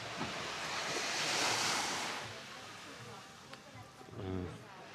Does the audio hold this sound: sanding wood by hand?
no